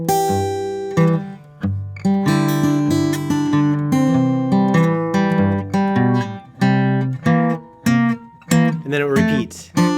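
Fingerpicked acoustic blues guitar plays measures 15 to 18 of a tune, with a steady alternating bass under ringing treble notes, close and clear without talk.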